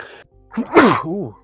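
A single sneeze bursts out close by, a sharp noisy blast followed by a short voiced tail, with a brief murmur just before it.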